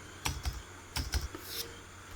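Keys clicking on a computer keyboard while a letter document is formatted in Word, a few separate close taps with a louder cluster near the middle and end, no voices.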